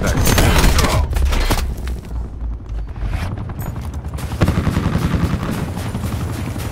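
Rapid automatic gunfire in Call of Duty Black Ops 4, loud bursts with booming impacts, a short lull, then steady firing resuming close by.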